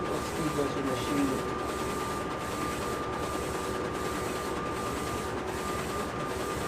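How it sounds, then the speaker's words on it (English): DTF printer running steadily up close, a dense continuous mechanical whir with a faint regular rhythmic pulse from the print head passes, while a person talks over it. "Are we talking about my DTF printer?"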